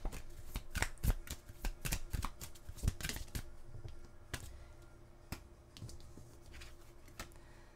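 Tarot cards being shuffled and drawn by hand, a close series of crisp flicks, slaps and riffles arriving in quick irregular bursts, then thinning to sparse single snaps, with no talking over them.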